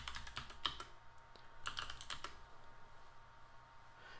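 Keystrokes on a computer keyboard while entering a password over SSH to a Raspberry Pi 4 NAS running Ubuntu: two quick bursts of close, crisp clicking separated by a pause, then faint room hiss with no talking.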